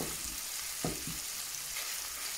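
Salmon frying in a pan of oil for a Moroccan pastilla, a continuous close sizzle with a couple of brief louder spits as the fish is moved, no talking.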